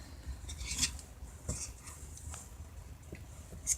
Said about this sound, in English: Here's some stirring action up in here